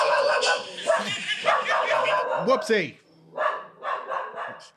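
A dog barks and yips a few times in short bursts, close by, overlapping with people talking.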